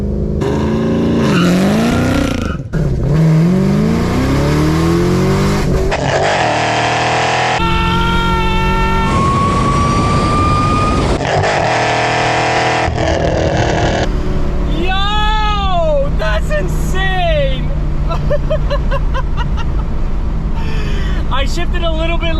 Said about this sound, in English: Let's do our first launch control with the car.